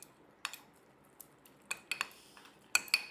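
A spoon clinks and scrapes against a bowl while mixing a honey face pack, giving a few sparse, close taps and scrapes over near silence.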